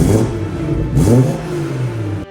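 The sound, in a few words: stock BMW 340i engine revving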